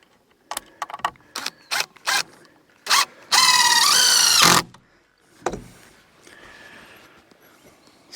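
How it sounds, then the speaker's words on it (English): Screws are driven into a roof beam with a power drill: short clicking bursts, then one sustained rising motor whine of about a second, followed by quieter handling noises. "So we're just going to put a couple of screws in this for now."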